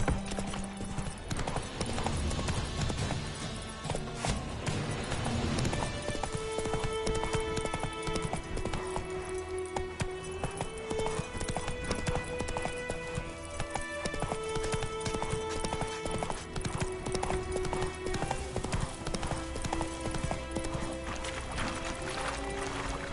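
Hooves of Roach, a horse in the video game Witcher 3, clip-clopping in a steady running rhythm under a continuous bed of game music, with a brief whinny-like sound and no clear talk.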